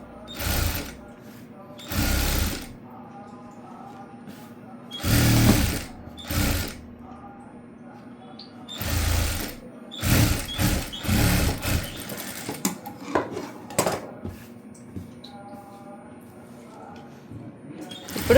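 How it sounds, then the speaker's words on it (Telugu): Sewing machine stitching a princess-cut blouse, running in loud whirring bursts of a second or two separated by pauses, with someone speaking in between. "ఇప్పుడు చుట్టూ కుట్టుకోవాలండి"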